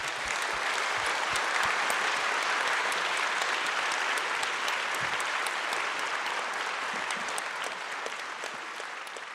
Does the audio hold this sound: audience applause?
yes